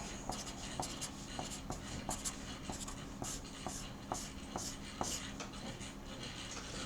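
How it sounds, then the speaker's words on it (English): A pen writing data points on paper, heard as steady, faint scratching strokes with small regular ticks over about seven seconds, close up, alone without talk. "I guess I'll go ahead and write it down on the paper"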